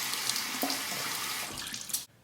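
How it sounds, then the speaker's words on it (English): Warm water runs steadily from a tap onto a Proraso boar-bristle shaving brush held under the stream, a close, broad hiss and splash that changes pitch as the brush moves, then cuts off sharply. "Let's soak this under the warm water as well."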